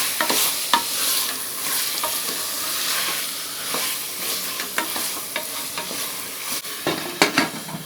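Chicken sautéing with softened tomatoes in a frying pan for an idli chicken kuzhambu, a continuous close sizzle broken by repeated scraping and clacking stirring strokes, without speech.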